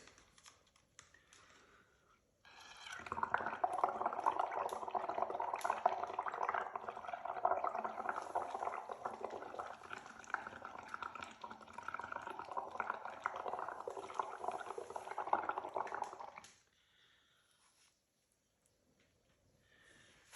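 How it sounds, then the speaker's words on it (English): Bubbles blown through a straw into soapy acrylic paint, a dense, steady bubbling and gurgling that starts abruptly, holds fairly quiet for about fourteen seconds, then stops, with near silence before and after. "let's do the fun part and blow some bubbles"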